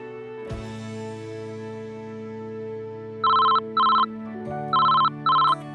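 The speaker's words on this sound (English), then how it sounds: "Once again, the phone rang at my desk." A desk telephone rings in four electronic bursts, two close pairs, bright and clear over a sustained soft music bed with no one speaking.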